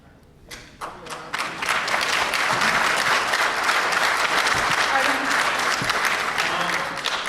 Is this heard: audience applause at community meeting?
yes